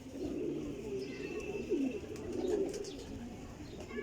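Pigeons at a breeder's loft coo in low, throaty repeated phrases close by, over a steady murmur of background noise.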